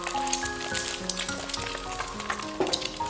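An egg fries over low heat in a pan, giving a steady soft sizzle with light scraping and clinks from a spatula as it is flipped and pressed.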